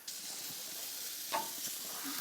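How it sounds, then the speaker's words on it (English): Greek lamb meatballs sear on hot grill bars with a steady, close sizzle and hiss, with a brief sharper crackle partway through. "You want it to hit the hot bars and start to sear and caramelize."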